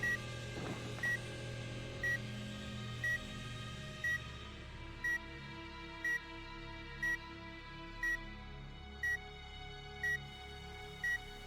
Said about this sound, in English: You don't like the constant beeping?